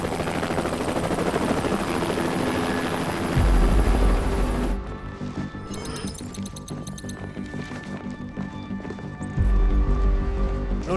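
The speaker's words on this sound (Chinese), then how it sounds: "雷达发现有3架直升机向晨曦岛方向飞去" Three military helicopters fly toward an island in a modern Chinese army drama, their rotor drone steady and loud throughout, with deeper thumping swells near the start and end under background music.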